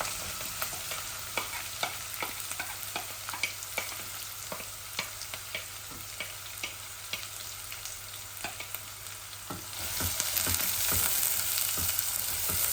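Grated onion fries in hot oil for a Bangladeshi pabda fish dish, giving a steady close sizzle with frequent sharp spatters and pops that grow louder and denser near the end.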